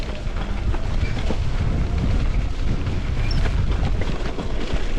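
Strong wind blowing at St Mary's Island, partly sheltered by trees: a loud, continuous roaring rumble buffeting the microphone, steady throughout with no voices.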